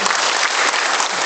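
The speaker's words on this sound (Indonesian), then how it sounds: "mari kita tepuk tangan" Loud, dense crowd applause at a government launch of a collateral-free low-interest loan scheme, steady clapping from many hands filling the short moment without speech.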